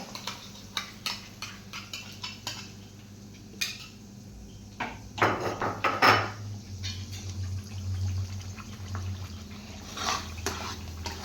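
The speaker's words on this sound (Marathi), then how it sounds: "आता मी ही कांदा टमाट्याची काजूची पेस्ट घालून घेणार" Onion, tomato and cashew paste is dropped into hot butter and ghee for shahi paneer, giving wet splattering and a burst of sizzle, with scattered utensil clinks against the pan and a soft steady frying hiss continuing afterward.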